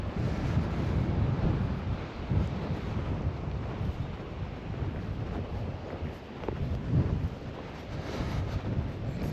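Steady outdoor wind by the sea on Guernsey buffets the microphone with a continuous low rumble and gusty swells, fairly faint, with no voices.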